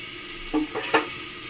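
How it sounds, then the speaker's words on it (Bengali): Fried fish pieces are dropped into simmering gravy for a sour fish curry, giving a few short sizzling bursts over a steady background hiss, close and brief. "ভেজে রাখা মাছগুলো দিয়ে দিচ্ছি।"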